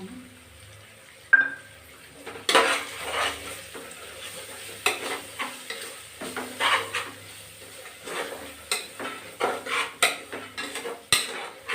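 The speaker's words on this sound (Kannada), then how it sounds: "ಈಗ ನೋಡಿ ಗರಂ ಮಸಾಲ ಧನಿಯಾ ಪುಡಿ ಅರಿಶಿಣ ಪುಡಿ ಹಾಕ್ತಿದ್ದೀನಿ" Garam masala, coriander powder and turmeric powder being stirred into a frying pan of sizzling ginger-garlic-coriander paste for methi pulao, with a faint sizzle under repeated scraping strokes of a spoon against the pan and occasional metallic clinks.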